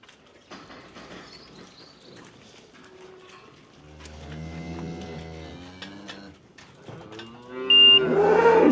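Cattle on a farm moo repeatedly while being given worm and fluke doses, with loud, drawn-out calls building toward the end among scattered clatter and handling noise.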